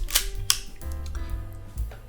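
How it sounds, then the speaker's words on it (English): A Canon A1 camera shutter is cocked during a repair, giving sharp mechanical clicks and a short ratcheting wind, close and distinct with no talk. "now what we need to do is I cock the shutter."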